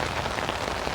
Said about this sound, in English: We have this terrible rainstorm and there's thunder off in the distance